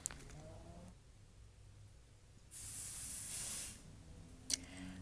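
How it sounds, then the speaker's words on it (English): Adhesive spray hisses in one steady burst of about a second and a half as it is applied to wig lace at the hairline, close and fairly quiet, with a small click afterward. "After applying a generous amount of adhesive spray to your hairline"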